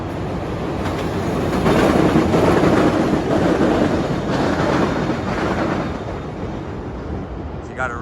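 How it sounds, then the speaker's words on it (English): An elevated L train rumbles past nearby with a loud, continuous roar and rattling wheels that swells and then eases off. "And this L train is gonna kill me."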